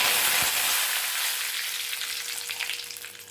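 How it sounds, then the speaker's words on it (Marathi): Cumin seeds and curry leaves hit hot oil with fried mustard seeds, setting off a bright, loud hiss that slowly fades into a steady crackling sizzle with small pops. "मोहरी तळलेली आहे त्यामध्ये एक चमचा जिरं घालते कढीपत्ता घालते"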